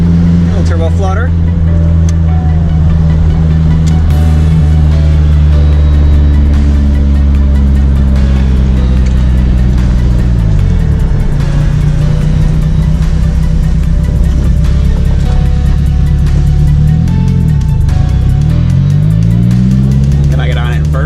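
A 1984 Nissan Skyline R30 with a turbocharged engine drones loudly and steadily from inside the cabin, its pitch dipping twice as the throttle lifts, where the turbo flutters during gear changes.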